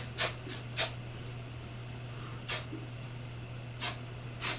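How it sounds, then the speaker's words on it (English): Short bursts of aerosol spray hiss, three quick ones close together, then a pause and three more spaced out, over a steady low hum. "I'm just going to take a little bit of hairspray and spray the back"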